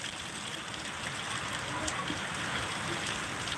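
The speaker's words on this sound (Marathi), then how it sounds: "हवा आणि पाऊस दोन्ही सुद्धा" Continuous rain in Kinwat, Nanded, patters and hisses evenly, with a slight swell of rushing noise partway through as wind blows with it.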